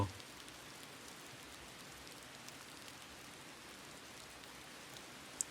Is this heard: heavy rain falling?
yes